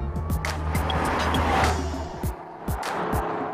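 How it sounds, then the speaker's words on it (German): A 416 hp Jaguar XKR sports car drives by, its engine note swelling and sweeping past in brief passes with a few sharp, rising whooshes. "Der Jaguar XKR."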